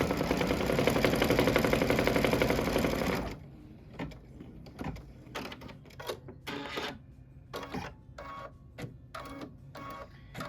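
An embroidery machine stitches leather gas pump meter details for a pickup truck quilt block, first a dense steady whir for about three seconds, then sparse clicking stitch bursts and short mechanical taps, close and alone.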